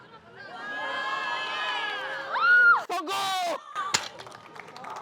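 A crowd at a gym cheers and whoops for a woman's 110 kg deadlift attempt, with rising shouts that swell into a loud burst and then break into scattered yells and calls.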